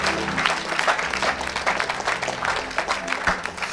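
A church congregation at a world mission service claps steadily for several seconds, a dense and lively burst of applause close by with a faint crowd murmur beneath it.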